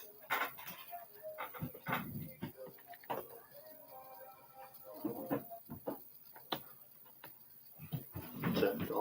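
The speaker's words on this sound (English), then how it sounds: "These dogs." Dogs panting and whimpering indoors, with a cat nearby: irregular breathy pants and thin whines come in bursts close to the microphone, alongside some faint clattering.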